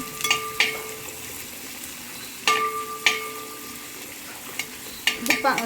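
Onions fry in a pan for biryani with a constant close sizzle, broken by several sharp metallic clinks and scrapes of a spoon against the pan.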